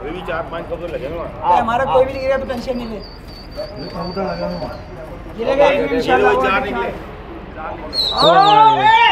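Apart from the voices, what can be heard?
pigeons cooing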